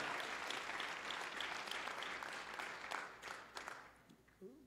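A congregation applauds at an all-night prayer gathering, loud sustained clapping filling the room, then thinning out and fading near the end as a voice returns.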